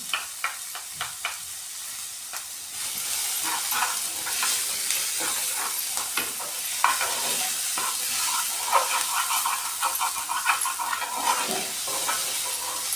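Chopped onion with salt sautés in a pan, giving a steady sizzle with scraping stir noises that grow louder partway through.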